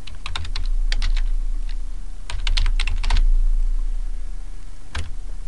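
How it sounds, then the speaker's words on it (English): Someone types a description on a computer keyboard, with close, crisp key clicks coming in several quick bursts separated by short pauses, ending with a single isolated keystroke. "and we need to type in a description."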